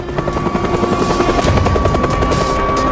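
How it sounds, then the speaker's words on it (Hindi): A helicopter arrives and flies overhead during a high-altitude rescue rope test, its dense rotor thump and turbine roar continuous, loud and steady throughout, with no voices. "हेलीकॉप्टर सही समय पर पहुंचता है और टेस्ट शुरू करने का इशारा करता है।"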